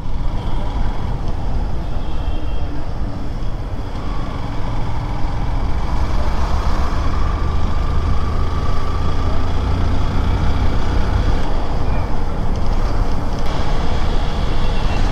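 Continuous city traffic in Guwahati rumbles close by, a dense wash of engines, trucks and passing vehicles with steady road noise throughout.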